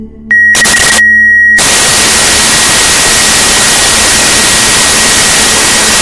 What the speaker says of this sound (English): I am forced to sit with my eyes closed and simply listen to the static